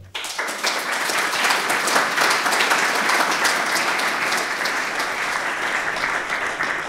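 An audience applauds to welcome speaker Jonathas De Andrade at a talk, steady sustained clapping from a full room that starts abruptly and continues evenly throughout.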